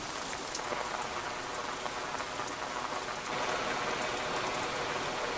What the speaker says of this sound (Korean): 순식간에 비가 쏟아진다